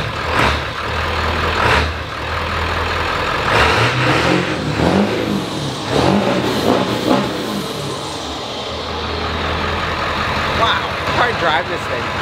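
A Ford 7.3L diesel truck engine revving and accelerating on the road, loud rising and falling engine roar with repeated surges, heard from close by under people talking.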